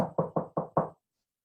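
Five quick, evenly spaced knocks on a wooden door, close and crisp, followed by silence.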